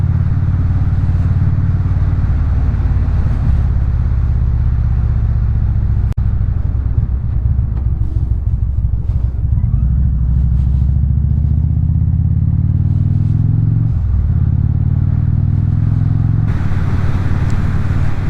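Steady, loud wind roar inside a Shoei modular motorcycle helmet at riding speed, mixed with low engine drone from a Harley Super Chief, rising slightly in pitch later.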